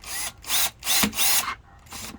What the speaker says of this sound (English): you're going to slowly drill a hole